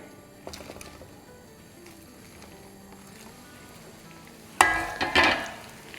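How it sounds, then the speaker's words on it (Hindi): Chicken frying in hot oil for chilli chicken, a faint sizzle under the kitchen background that swells into a loud, crackling burst of frying near the end. "तो इसको 1 मिनट के लिए फ्राई कर लेंगे ताकि चिकन हमारी क्रिस्पी हो जाए।"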